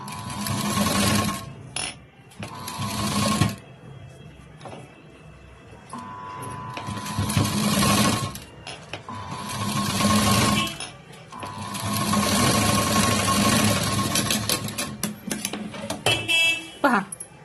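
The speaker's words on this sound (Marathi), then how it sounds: "एक कडेला आधी शिलाई देऊन घ्यायची." Sewing machine stitching piping onto a blouse neckline, loud close motor runs in several bursts of a few seconds each, separated by brief pauses with a steady hum between.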